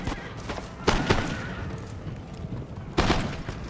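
Cannon fire in the Empire: Total War video game, several booming shots spaced a second or two apart over a rumbling battlefield backdrop, loud and fairly close, without talk.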